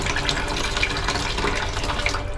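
Water runs steadily from a newly installed faucet, a continuous broadband hiss and splash at moderate level throughout with no talking.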